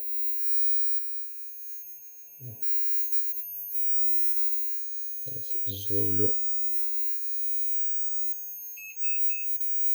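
A constant high-pitched electrical whine from a wire touching a transformer input rings throughout, with brief crackles and bumps, while someone speaks quietly in the middle.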